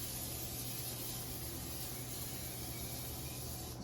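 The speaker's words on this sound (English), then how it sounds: "I'm going to spray it in non-stick cooking spray" Non-stick cooking spray is sprayed into an 8 by 8 square baking dish, a steady continuous hiss held close and even for about four seconds with no talking.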